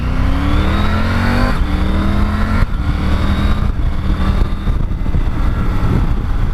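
A 2020 Triumph Tiger 900 GT Pro motorcycle engine pulls hard and steadily, its pitch climbing through several gear changes with a constant loud roar and wind rush.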